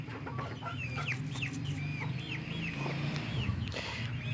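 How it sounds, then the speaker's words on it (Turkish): Dwarf Cochin chickens, a hen and rooster, cluck and murmur close by in a steady stream of short calls, with a low background hum throughout. "Horozumuz orada, tavuğumuz burada."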